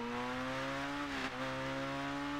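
A beefy-sounding car in Rocket League holds a steady, harmonic engine drone. The pitch dips briefly partway through, then settles back to the same even hum, with no voices.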